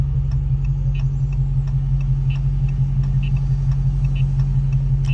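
Steady, loud idle of a Dodge Hellcat with the hood off and an aftermarket intake, its supercharger holding a constant whine over a deep rumbling engine drone, with faint ticking on top, no voices.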